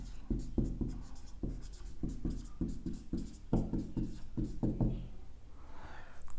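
Marker or chalk writing out a Python exponent expression on a board, a series of short, distinct knocking strokes in an irregular rhythm, close and clear with no talk.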